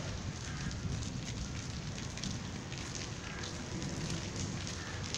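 Rain beginning to fall outdoors as thunder rumbles, a steady, dense hiss of drops that holds at an even level throughout with no pauses.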